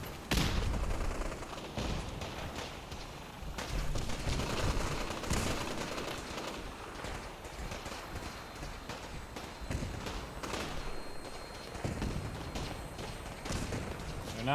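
Gunfire in the game Fallout 4, bursts of rapid shots and scattered single cracks over a dense, noisy battle backdrop, fairly loud throughout with no clear talking.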